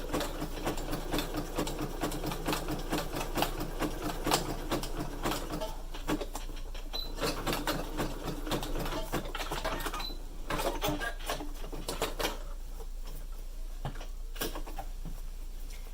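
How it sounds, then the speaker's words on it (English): A sewing machine zigzag stitching elastic onto a fabric face mask, rapid mechanical clattering stitches in bursts, close and moderately loud, with a steady low motor hum underneath. "I'm going to zigzag stitch in a straight line along the crease."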